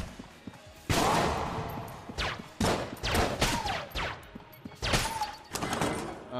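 Gunfire striking tables in the Enter the Gungeon video game: sharp, quick shot impacts and cracking thuds in short clusters, fairly quiet, with scattered game effects between the bursts.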